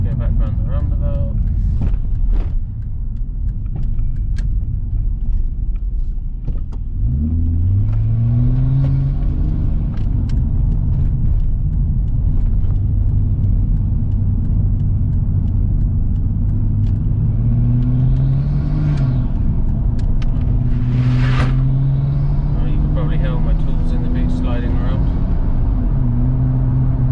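A Nissan Stagea with an RB25 engine and straight-pipe exhaust drives along, its deep droning rumble rising and falling through gear changes and acceleration, with someone talking over it at times.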